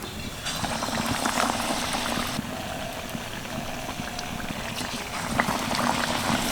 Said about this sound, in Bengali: এই যে বেসনের ব্যাটারের মধ্যে দিয়ে এইভাবে ডুবিয়ে আমি তেলের মধ্যে ছেড়ে দেব